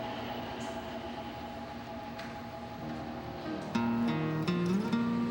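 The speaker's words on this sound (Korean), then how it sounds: "서울 시민의 약속 시간을 지켜준다는 지하철. 어김없이 제 시간에 도착했지만" A Seoul subway train pulls into a station with a steady rumble and hum, then near the end a louder tonal whine and brake squeal rise as it slows, with no voices.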